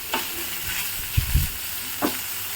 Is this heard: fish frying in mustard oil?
yes